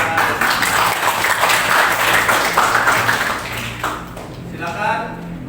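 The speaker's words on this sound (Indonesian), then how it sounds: "Bagus sekali, berikan tepuk tangan." Classroom applause from students, a burst of mixed clapping and chatter that fades after about four seconds into quieter voices.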